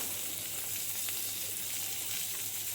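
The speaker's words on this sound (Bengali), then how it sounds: "আদা রসুনটা ভালো করে ভেজে নেবো" Ginger, garlic and tomato fry in a pan with a little salt, giving an even, soft hissing sizzle that holds steady throughout without other noises.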